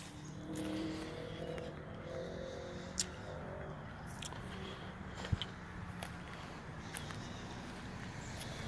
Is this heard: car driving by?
yes